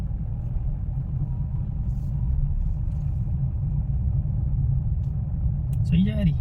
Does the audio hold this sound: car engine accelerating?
yes